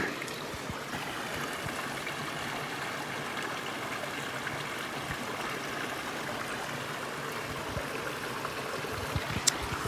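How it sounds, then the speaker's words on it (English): Babbling brook flowing steadily along a countryside walk, a constant soft watery rush and trickle at moderate distance with no voices. "I'm going to enjoy the rest of this walk with these babbling brooks with no fish in them"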